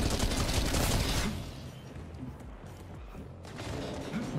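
Rapid gunfire in a video game shootout. A dense, loud volley rattles out, eases into a brief lull, then the shots pick up again.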